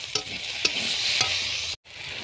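Curry base of tomato, chili powder, garlic and ginger paste frying in a pan, a steady close sizzle with a few sharp stirring scrapes, then a sudden brief cut.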